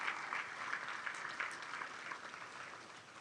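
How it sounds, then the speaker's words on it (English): Banquet audience applauding at a fundraising dinner, a steady dense wash of many hands clapping close and fairly loud, holding for several seconds and easing slightly toward the end, with no talk over it. "Give yourselves a round of applause."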